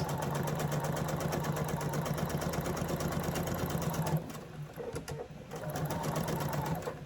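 A sewing machine stitches quilt pieces in a rapid, steady mechanical chatter, stops briefly for a short pause with light handling sounds, then resumes running.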